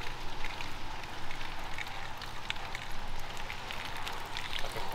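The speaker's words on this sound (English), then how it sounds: "Sucks that it's rain, but at least we could test out the audio quality of the rain." Light rain falls outdoors over grass, a steady, faint patter that continues evenly throughout with no one speaking.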